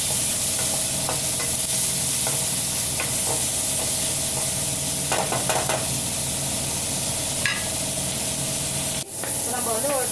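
Onions frying in a pan while cooking a pomfret coconut fish curry give a continuous loud sizzle and hiss, broken by occasional scraping and clinks as they are stirred, with a brief voice near the end.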